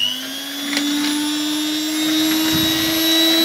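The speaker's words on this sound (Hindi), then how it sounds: "अब हम हैंड बीटर की मदद से क्रीम को अच्छे से बीट कर लेंगे" An electric hand beater whips cream with a steady, loud motor whine and a constant high hum, unbroken for the whole stretch.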